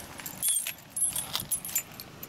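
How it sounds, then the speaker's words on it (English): Two sets of car keys on a single ring for a Mercury Grand Marquis jingle in short, bright metallic bursts, shaken a few times at close range with no talking. "Two sets of keys."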